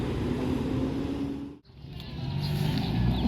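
An intercity coach bus pulls out of a depot bound for Jakarta, Bogor and Bandung, its engine a steady low rumble that briefly drops away before building again with a rising whine.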